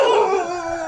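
A protective village dog in Sangapur near Hampi gives a loud, close, sustained howl, a single drawn-out tonal cry lasting about a second.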